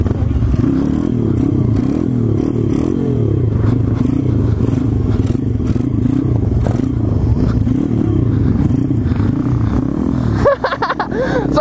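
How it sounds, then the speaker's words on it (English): A street-legal SSR pit bike runs close by with a steady, loud buzzing engine drone and rattling clatter throughout, with a rider's voice faintly mixed in. "I'm killing it on this bike"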